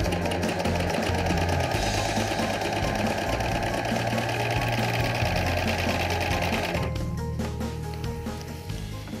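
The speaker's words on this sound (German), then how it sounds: "Nun wird der Stoff von der Maschine regelrecht zusammengeschoben." Overlock sewing machine stitching fabric at its highest differential feed setting, a loud, steady, rapid mechanical whirr running continuously close by, easing slightly in pitch near the end.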